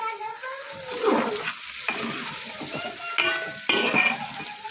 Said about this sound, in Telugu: ఇప్పుడు ఈ ముక్కలన్నీ వేసేసుకున్నాం. మొత్తం కలుపుతున్నాం.